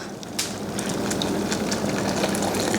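A heavy tea kettle pours hot water in a continuous gushing stream, close up, starting with a slight surge and holding a steady liquid rush.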